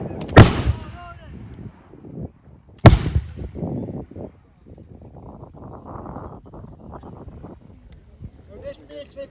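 Two loud, sharp musket volleys crack out at a historical military reenactment at Beamish Museum in County Durham, a few seconds apart and close by, with shouted commands and crowd chatter between and after the shots.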